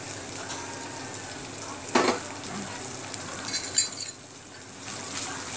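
Nathli (small dried fish) frying in gingerly oil with spring onion and tomatoes in a pan, a continuous close sizzle with a brief clatter of a utensil stirring against the pan.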